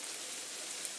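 Steady hiss of rain falling, a continuous even wash of fine droplets with no other sound standing out.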